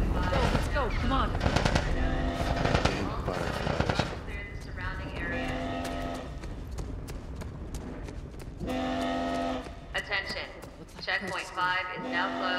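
Gunfire in The Last of Us video game, rapid bursts of shots mixed with shouting voices, loud and chaotic, with alarm-like tones sounding between volleys.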